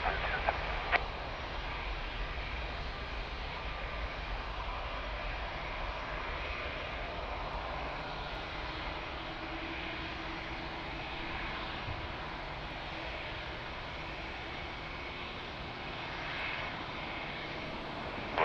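A jet airliner roars at Lisbon Airport during takeoffs and landings, a long sustained engine rumble that holds steady at moderate distance for the whole stretch, with no voices.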